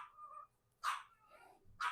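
A tiny 3-pound dog barks twice behind a shut door, each bark short and sharp, with a faint whimper between them in a quiet kitchen.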